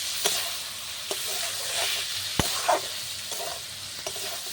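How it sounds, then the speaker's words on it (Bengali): Chicken liver is stirred and fried in a pan for a bhuna dish, with a steady sizzle under sharp scrapes and knocks of the spoon at irregular intervals. "খুব ভালো করে নেড়ে নেড়ে কষিয়ে নেব। ঢাকা দিয়ে দিয়ে আমি কিন্তু ভুনাটা করে নিচ্ছি"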